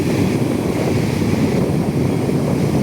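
Strong typhoon wind (Typhoon Ramil) roars steadily in Dinahican, Infanta, Quezon, buffeting the microphone with a constant, loud rushing noise and no voices.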